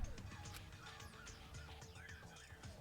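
Birds honking like geese in Danganronpa Another Episode: Ultra Despair Girls, a busy flurry of overlapping squawks and honks over a low game background, continuous and faint.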